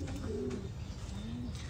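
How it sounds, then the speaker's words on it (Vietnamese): Low, soft coos of American giant pigeons raising young, in a couple of short rising phrases against a steady background hum, fairly quiet and close. "Đây là chim bồ câu gà Mỹ đang nuôi con nha."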